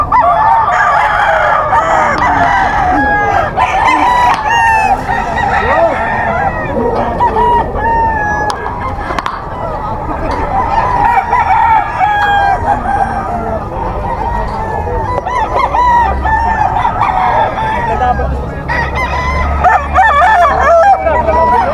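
Sweater gold gamefowl roosters crow repeatedly at a busy pet market, several birds overlapping with loud, close cock-a-doodle calls and clucking over constant crowd noise throughout.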